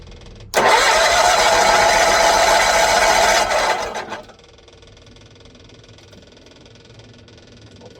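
A rusty 1970s John Deere 400 tractor engine with a fuel leak cranks and catches, then roars loudly at full throttle for a few seconds. It drops to a much quieter, steady rumble.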